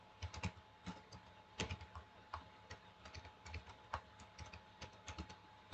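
Quiet, steady typing on a computer keyboard, with irregular bursts of light key clicks and a few heavier keystrokes over a faint background hum, no voices.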